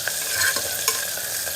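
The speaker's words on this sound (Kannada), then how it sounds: "ಮೆಣಸಿನ್ಕಾಯಿ ಮತ್ತು ಈರುಳ್ಳಿ ಚೆನ್ನಾಗಿ ಫ್ರೈ ಆಗಬೇಕು ಎಣ್ಣೆಯಲ್ಲಿ." Green chillies and onion frying in oil in a pan, a dense continuous sizzle with faint stirring clicks, close and fairly loud with no talk.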